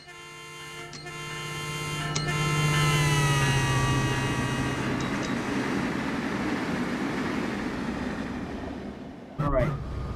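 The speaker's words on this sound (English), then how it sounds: "I'll sound the horn so you can hear the Doppler effect on it, on the horn." Horn of an MP36PH locomotive in Train Sim World 5, a loud multi-tone blast that swells and sags in pitch as the train passes, then rumbling rail noise, with a brief clatter near the end.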